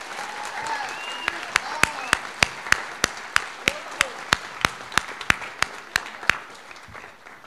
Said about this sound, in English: can we give them a big round of applause for all their support?